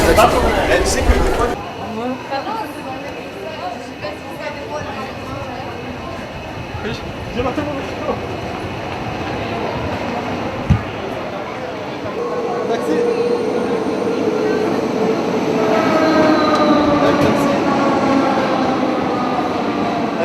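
A Paris metro train rumbles along the line with a steady rolling roar, a sharp clunk partway through and rising screech of wheels toward the end, as people talk nearby.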